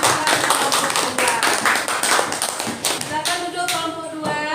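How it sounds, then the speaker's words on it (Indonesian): A classroom group claps for their classmates, a lively burst of many hands that is dense at first and then thins into scattered claps, while voices begin to talk near the end. "kalau begitu berikan tepuk tangan teman-teman kelompok 2"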